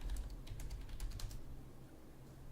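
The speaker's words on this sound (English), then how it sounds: "I hear my keyboard." Computer keyboard typing during a live stream setup, with rapid, light clicks clustered in the first second and a half, then trailing off beneath a steady low room hum.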